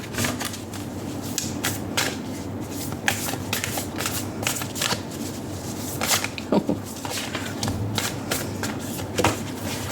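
Oracle cards from a Spirit Animal Oracle deck being shuffled and one drawn: a steady, close papery rustle broken by frequent soft snaps and flicks, with no voices.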